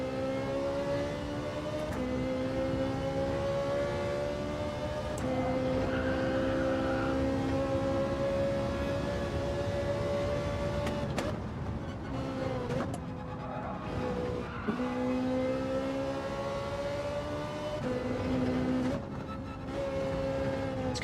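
A Ferrari race car in Gran Turismo 7 drones steadily at high revs for the whole stretch, with a few shifts and surges. No one speaks over the constant, fairly quiet engine tone.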